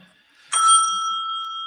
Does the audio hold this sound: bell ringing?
yes